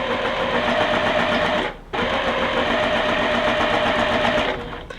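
A sewing machine runs steadily as it stitches a quilt block from corner to corner, a loud, even mechanical whir that pauses briefly once, then resumes and trails off near the end.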